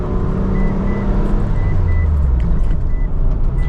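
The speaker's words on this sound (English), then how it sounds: "see this loud car" A loud car on a street, a steady roaring engine rumble close by with a low drone sweeping through, and faint intermittent beeps in the background.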